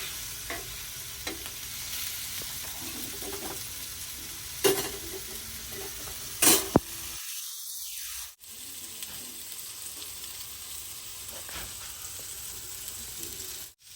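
Tuna fish frying in a pan, a steady close sizzle with scraping and stirring knocks, a few sharp clinks, and a brief quiet gap near the middle before the crackle resumes.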